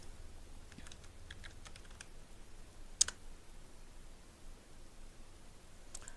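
Typing on a computer keyboard during data entry: sparse, quiet clicks in small bursts, with one sharper key strike near the middle, over a faint background hiss.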